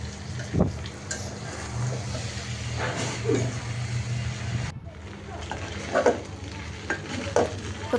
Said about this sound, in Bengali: এখন টমেটো সস, ম্যাগি মশলা সব কিছু দিয়ে ভালোভাবে নেড়েচেড়ে মিশিয়ে নিলেই তো হয়ে গেল